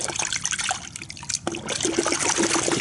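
Hot water pours steadily from a gallon container into a bucket for a car wash solution, a continuous splashing trickle with gurgling bubbles, close and fairly loud.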